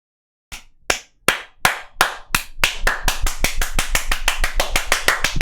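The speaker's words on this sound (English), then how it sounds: "And then, of course, and everyone clapped." Applause from a single pair of hands starts with slow, separate claps, then speeds up into a rapid, steady run of sharp, close claps with no voices.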